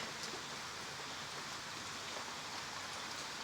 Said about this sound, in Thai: ระยองตอนนี้ฝนตกจังเลย